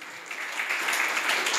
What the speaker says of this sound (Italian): propongo un bel applauso per riscaldare la serata